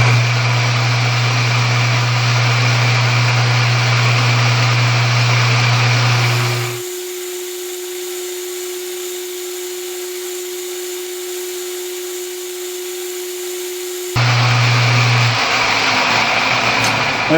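A metal lathe or similar machine runs loudly while cutting a shoulder on a Harbor Freight bandsaw wheel. A steady engine-like drone drops to a lower, quieter whine partway through, then the full roar returns.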